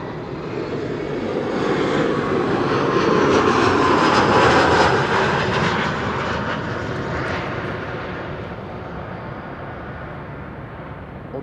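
A KLM passenger jet passes at Amsterdam Schiphol, its engine roar building to a loud peak and then slowly fading as it moves away.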